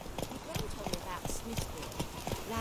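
Horse hooves clip-clop at a steady walking rhythm along a path in The Witcher 3 video game, repeated close hoofbeats with faint creaks and rustles and no talking.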